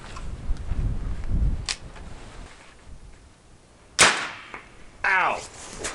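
A 7-inch AK-47 fitted with a Dead Air Wolverine suppressor, fired in a close-quarters setting, giving one sharp suppressed shot followed by a second crack with a metallic ring, each standing out against quiet background.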